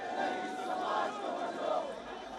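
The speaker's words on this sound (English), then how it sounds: "Large gatherings, crowds shouting slogans against the government" A large crowd at a political gathering shouts slogans against the government, a dense roar of many raised voices swelling and ebbing together, heard from a distance without any single clear speaker.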